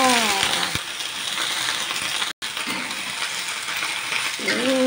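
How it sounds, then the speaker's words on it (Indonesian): Chopped Chinese cabbage (sawi putih) stir-fried in a hot pan gives a loud, continuous sizzle with scraping stir strokes, briefly cut off by a short gap midway. "Kita aduk sampai rata ya, guys."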